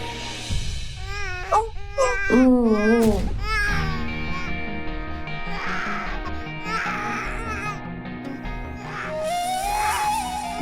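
An infant's cry in a Hindi TV drama scene, wailing in rising and falling bursts over the first few seconds, then fading under a swelling dramatic music score.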